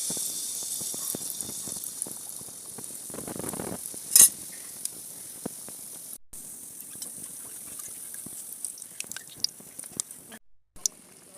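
Rice flour batter for malpua pitha frying in hot oil, a steady close sizzle with soft stirring and scraping, one sharp clatter near the middle and no talk.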